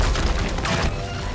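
Gunfire in an action movie scene, a dense continuous barrage of shots under a loud mix of crashing effects and score, with no speech.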